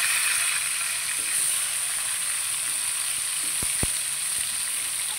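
Fish sizzles steadily as it fries in a pan of oil in a home kitchen, a continuous close hiss broken by a couple of sharp clicks near the end.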